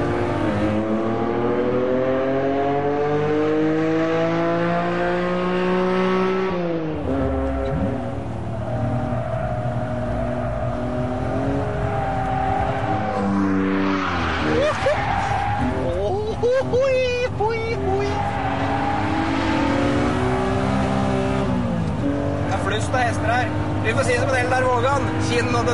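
A Honda NSX sports car drives and accelerates, its engine note rising and falling through gear changes, loud and close, with someone talking over it at times.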